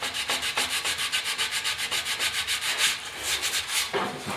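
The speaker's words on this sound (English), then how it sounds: "Just on the last little bit of sanding here on the second grill." Steady rhythmic rubbing of sandpaper against the plastic grill of a 1972 Ford truck, close up, in quick repeated back-and-forth strokes with no talking.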